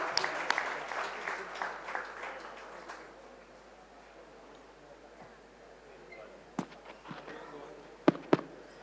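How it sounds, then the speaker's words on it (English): Applause from the audience at the FSAI Bravery Awards ceremony at the ITC Grand Chola in Chennai, a dense burst of clapping over the first three seconds that fades into room murmur, followed by a few sharp isolated knocks. "let's give them a big round of applause for being the wonderful host"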